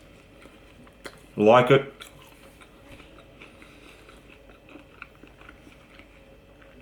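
Someone takes a quick bite of a roast chicken sub roll, a short burst of crunchy chewing close to the mic, with light talk around it.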